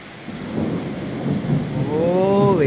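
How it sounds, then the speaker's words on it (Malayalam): Deep rolling thunder rumbles through a steady rainstorm heard from indoors, building in loudness over a few seconds, with a brief tonal voice-like sound rising near the end. "വലിയ ഇടിവെട്ട് തന്നെ"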